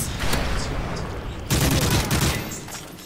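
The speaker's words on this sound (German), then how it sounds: "Verbündeter Luftschlag auf dem Weg." A burst of rapid explosive blasts from an airstrike in Call of Duty: Modern Warfare 3 rumbles loudly, with a second heavier barrage midway through and dense booming crackle throughout.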